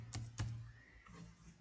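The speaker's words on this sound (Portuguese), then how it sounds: "E vamos digitar aqui" Two quick keystrokes on a computer keyboard, close and faint, followed by a quiet pause with soft room noise.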